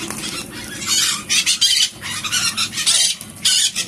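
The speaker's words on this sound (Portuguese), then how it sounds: "Ele tá pedindo pra ela, papá," A parrot chick begs while its mother feeds it, giving repeated shrill squawks and squeals in quick bursts close by, with a voice speaking faintly underneath.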